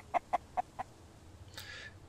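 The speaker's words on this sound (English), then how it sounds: "That chicken is going to drive me insane." Chicken clucking in the survival video game Mist Survival: four short, evenly spaced clucks, then a longer higher squawk, fairly close against quiet ambience.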